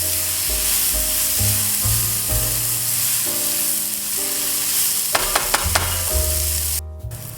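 Sliced onions with balsamic vinegar sizzle steadily in a pan over low heat, with a soft, even crackle throughout. A few sharp clinks of stirring come near the end.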